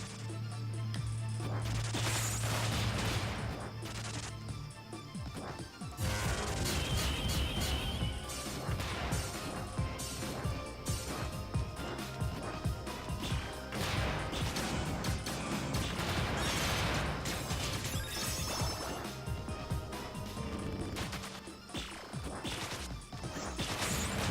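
Rapid blaster shots in the Freedom Planet video game, a dense run of loud repeated impacts and crashes layered over busy game music, continuing throughout with no talking.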